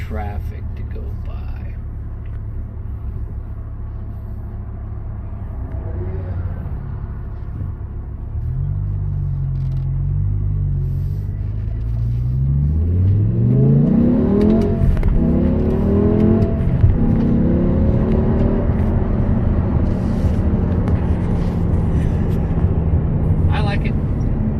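Road traffic going by on a street, a low rumble that swells as vehicles pass and one engine accelerates with rising pitch, heard alongside talking.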